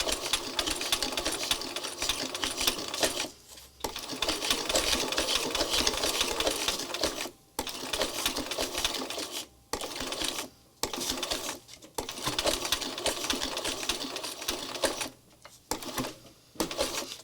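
A sewing machine stitching up a handmade spirit doll runs in long steady whirring bursts, close and loud, separated by short pauses, with no talking.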